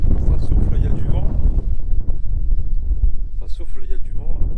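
Gusty wind roars against the microphone in low rumbling bursts near a construction site outside Bukhara, Uzbekistan, while someone talks over it.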